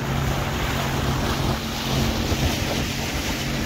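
A small fishing boat motors along a dock edge on the Solent, its low engine rumble steady and close, mixed with wind buffeting the microphone and water noise.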